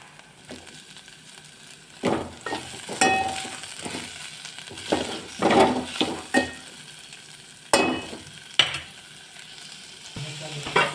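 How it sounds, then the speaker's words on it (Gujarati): Raw potato, bottle gourd and drumstick pieces are stirred into sambar in a pot, with intermittent close scraping and clanking strokes over a soft simmering sizzle. "હવે આપણે શાકભાજીને હલાવી દઈશું"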